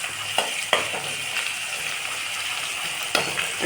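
Garlic fries in hot oil for lemon pickle, a steady close sizzle with a few sharper clicks and scrapes as it is stirred in the pan.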